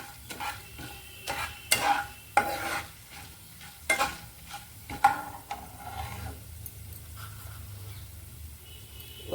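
Taro root (chamadumpa) curry frying in a pan, with repeated stirring scrapes and clatters over a low, steady sizzle that continues alone without talk.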